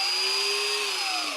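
A power drill drives small screws into a sagging VW Jetta door panel, giving a loud, continuous high motor whine that dips slightly in pitch toward the end.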